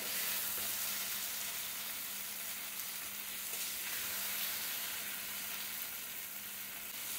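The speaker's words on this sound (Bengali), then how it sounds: "দেখুন মশলাটা খুব সুন্দর আমার ভাজা হয়ে গেছে" Spice paste with chili powder sizzles in a pan for a taro curry, a dense, even frying hiss that holds steady throughout.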